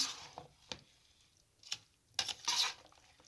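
Boiled chickpeas being mixed with spices for chana chaat: a few scattered clinks and scrapes of a utensil against a bowl, quiet and irregular, with short bursts of stirring between silences.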